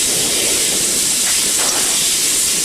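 Loud, continuous hiss of escaping steam from a China Railways SY 2-8-2 steam locomotive at Tangshan coal mine fills the whole clip, steady and broadband with no voices.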